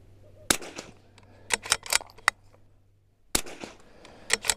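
A .22LR rifle fires a group of shots at a target, sharp cracks spaced irregularly in two bursts with quiet pauses between them, close and fairly loud.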